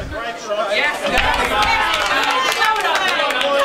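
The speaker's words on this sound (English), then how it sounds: "the WA crowd over there behind them is starting to ramp up a little bit and be a bit noisy" A Western Australia team's crowd grows noisy at an Australian blackball pool championship, with steady chatter, babble and a few claps forming a loud, continuous hubbub.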